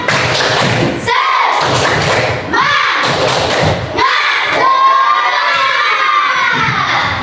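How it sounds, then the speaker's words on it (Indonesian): Schoolchildren in a classroom clap a rhythmic spirit clap, loud bursts of hand claps in short patterned phrases, mixed with shouting and cheering voices close by. "kita tepuk tangan. Tepuk semangat."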